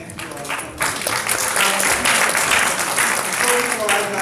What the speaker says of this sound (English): Give Sally a big round of applause.